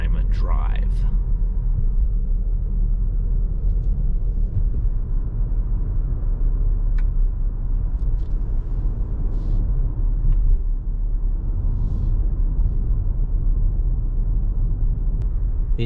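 A 2023 Mitsubishi Outlander SEL Premium drives through the city at night, heard from the cabin as a steady, low road and engine rumble that continues without a break.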